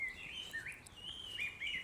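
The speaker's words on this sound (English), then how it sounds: "okay, those birds singing" Birds singing among trees along a nature walk, a faint string of high chirps and warbling phrases running continuously and fairly distant, with no voices.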